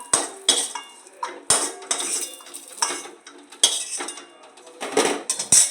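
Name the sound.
fried cashews and raisins transferred from pan into bowl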